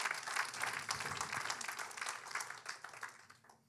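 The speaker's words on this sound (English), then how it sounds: "If you're going to clap, clap for him." Church congregation applauding after a sermon line, a steady wash of many hands clapping that thins and fades toward the end.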